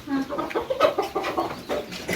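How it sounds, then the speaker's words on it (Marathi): A chicken clucks in a short run of close, uneven calls on a village goat farm, with a few brief bursts in quick succession and a faint hint of background voices. "ही कोंबडी आहे."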